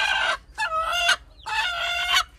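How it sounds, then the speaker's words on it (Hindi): A broody hen sitting on four eggs squawks loudly and harshly in three drawn-out, strained bursts, close by, with short gaps between them and no talk. "ये अभी मुर्गी फिर कुड़क हो गई है"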